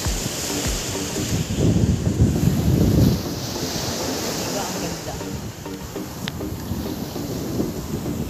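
Ocean surf washing steadily onto a beach, with a louder surge of breaking waves early on and wind buffeting the microphone.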